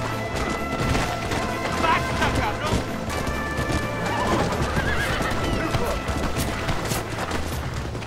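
A horse whinnies and hooves clip-clop in the Red Dead Redemption video game, along with gunfire-like crashes and booms, while a voice talks over the action.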